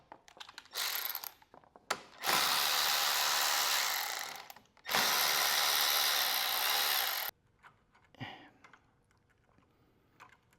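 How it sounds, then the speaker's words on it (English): A 5/16 socket ratchet works the carburetor fasteners on an Ariens snowblower with a Briggs & Stratton engine, giving two loud sustained bursts of clicking and a shorter one before, then softer handling sounds. "So this is 5/16 socket to take that off."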